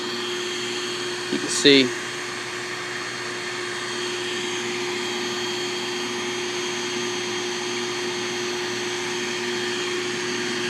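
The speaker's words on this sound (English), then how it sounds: "there's our Be Green vacuum, our green vacuum" A Bee Green natural bee removal vacuum runs on a rooftop in Long Beach, California, its steady motor whine drone continuous and moderately loud throughout, with a brief clatter early on and a voice speaking over it.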